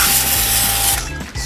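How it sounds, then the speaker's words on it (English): Steady loud hiss of a Kranzle 1622 TS pressure washer spraying through a high-pressure nozzle, over a constant droning pump motor. "So as you can tell, what you hear is the spray,"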